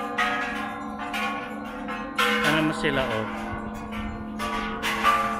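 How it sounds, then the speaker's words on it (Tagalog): A temple bell rings at Wat Saket, the Golden Mountain temple in Bangkok, its tone sounding in several strikes beneath people chatting nearby. "Pinapatunog nila yung kampana."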